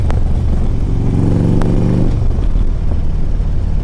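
A Harley Davidson Street Glide CVO motorcycle engine runs loud and close with a deep throbbing rumble that swells in a rev midway, then settles back to a heavy idle burble.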